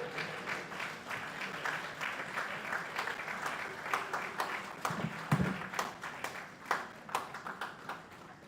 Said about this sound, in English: ask you to give me a round of applause so that I can take a breath